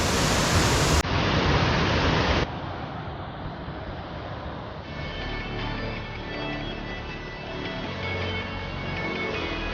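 Pombhurle waterfall in Devgad, Konkan, pours in a constant rushing roar, loud and broadband, with the tone shifting slightly partway through and no voices over it.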